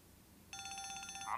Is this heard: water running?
no